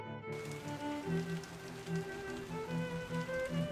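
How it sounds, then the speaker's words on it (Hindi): Rain pours steadily through a forest storm, a dense hiss of drops over a low rumble, with a droning musical bed underneath throughout. "तेज़ तूफान, बारिश और आसमानी बिजली होने लगती है।"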